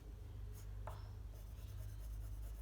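A crayon or pencil scratches across paper while a brown box is drawn, soft close rubbing strokes in short bursts over a faint steady hum, with no talk.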